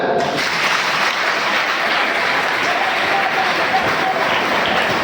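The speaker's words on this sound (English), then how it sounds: "Give claps to them." Students at a Jawahar Navodaya Vidyalaya school assembly applaud during a panel inspection, steady dense clapping from a large group, loud and continuous throughout.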